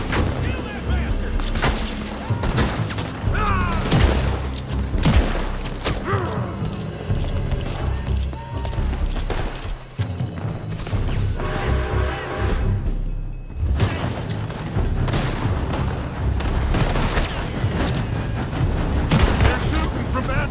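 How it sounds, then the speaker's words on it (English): Gunfire in a Red Dead Redemption 2 shootout, with shots fired from a building. Bursts and booms run steadily through a dense, loud mix of game effects, and shouted voices break in over the action. "They're shooting from that building!"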